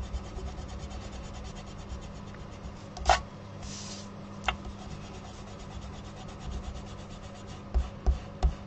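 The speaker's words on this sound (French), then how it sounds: "Donc là, on peut gommer toutes les écritures." A pencil eraser rubs out writing on paper for a scrapbook template, a faint continuous scratchy rubbing with a few sharp taps and bumps, close and quiet, with no talk.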